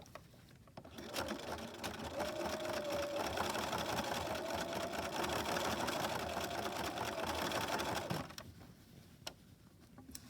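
A sewing machine stitches elastic in a continuous run of about seven seconds at moderate volume, with a few clicks and handling sounds before and after.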